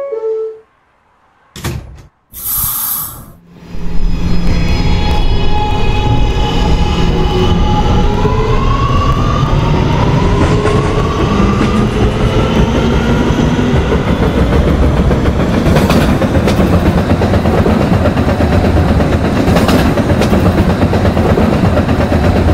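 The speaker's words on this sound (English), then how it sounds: "This is a Potato Burg bound Q Express train." An R211A subway train on a Q express route in the Roblox game runs steadily with a loud, continuous rumble and a rising motor whine, preceded by a few brief bursts of sound and a short gap.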